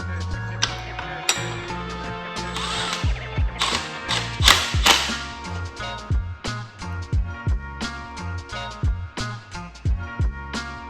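Ratchet clicking as timing chain bolts on a BMW N57/N47 diesel engine are tightened, with repeated bursts of close, sharp metallic pawl clicks and a few clinks of tools throughout.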